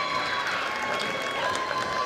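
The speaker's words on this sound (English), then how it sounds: "How about a round of applause for our lonely Tane in the 16 and 19 events category." A crowd claps and cheers continuously, a dense wash of applause at moderate volume with a few voices mixed in.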